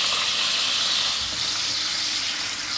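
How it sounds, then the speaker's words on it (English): A steady, bright hiss of sauce steaming and sizzling in a hot pan as cooked chorizo goes into the glaze, continuous and close with no voices. "I'm gonna add the chorizo that I cooked earlier"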